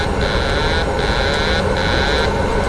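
An airliner in the Prepar3D flight simulator comes in to land with gear down, a steady engine roar under a repeating high electronic cockpit warning tone that sounds in three even pulses.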